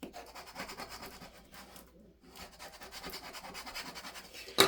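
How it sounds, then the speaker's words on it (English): A scraper rubs firmly across a transfer design laid on a small wooden Dollar Tree gift box, giving close, dry scratchy strokes with a short pause midway and a sharper burst at the end. "You're going to use your scraper."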